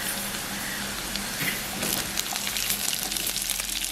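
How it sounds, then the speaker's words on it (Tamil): Onions go into a pan where garlic and green chilies are frying, giving a steady, dense sizzle that sounds almost like rushing water, with a few louder crackles partway through. "நாங்கள் இதுக்குள்ள இந்த வெங்காயத்தை போட போகிறோம்."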